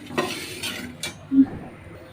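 Fennel seeds dry-roasting in a pan while being stirred, a few quiet scraping strokes and light clinks of utensil against metal, close and sparse.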